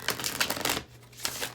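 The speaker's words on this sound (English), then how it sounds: "Two more shuffles." Tarot cards shuffled by hand in a few quick riffling bursts, close and crisp, with a short pause partway through and no talking.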